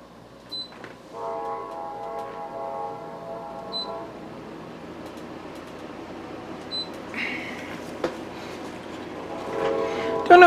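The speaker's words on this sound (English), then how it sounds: "especially with the choo-choo train just hitting, you know, annoying me" A passing train sounds its horn in a long, steady blast, then again near the end. The horn is moderately distant over a low rumble of rail noise.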